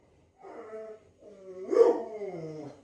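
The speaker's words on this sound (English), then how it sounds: "dogs are barking." Dogs bark from somewhere away from a home kitchen, two faint, short bursts of barking and growly yelping a second apart, with no talk over them.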